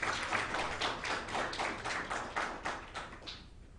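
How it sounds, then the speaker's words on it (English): Audience applause at a morning programme session on women in open-air and cross-border trade in Kenya, a steady round of clapping from a room of people, fairly close, lasting several seconds and tapering slightly at the end. "We can give Anne and Alice another round of applause, please."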